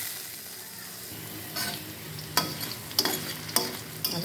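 Potato pieces frying in oil in a pan for a hilsa and potato pulao, a steady low sizzle broken by several sharp scraping stirs of a spatula, close and alone with no talking.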